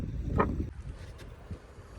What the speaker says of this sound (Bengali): ভালোই হাওয়া হচ্ছে একটু ঠান্ডা ঠান্ডাও লাগছে